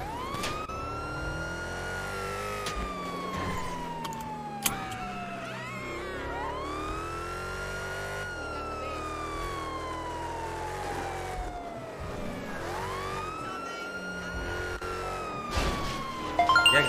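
Police car siren in the video game GTA V wails continuously in long rising and falling sweeps, loud and close, over a low engine rumble with occasional clicks and bumps.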